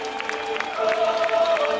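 An audience at a Georgian folk dance festival's anniversary ceremony applauds in a short burst of clapping, mixed with a voice and tonal sound.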